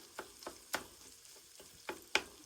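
Salted egg yolk pasta sauce being stirred in a frying pan, with quiet sizzling underneath and several distinct spoon scrapes and clinks at irregular intervals, close and fairly faint.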